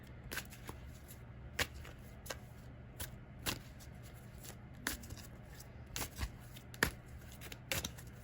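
Tarot cards being shuffled and handled during a card reading, a run of crisp, scattered flicks and snaps at uneven intervals, close and soft against a quiet room hum, with no voices.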